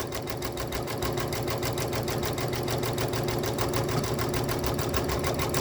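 A sewing machine stitches a row across quilt seams held in a magnetic hoop, a fast, even mechanical chatter that runs continuously and close, starting after a brief quieter moment.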